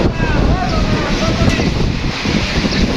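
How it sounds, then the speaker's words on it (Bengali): Strong wind roars through Faridpur town during a rainstorm, a loud, steady broadband rush with continuous gusting buffeting against the microphone and no pauses. "ফরিদপুর শহর বৃষ্টি হচ্ছে এবং বাতাস হচ্ছে প্রচন্ড পরিমাণ"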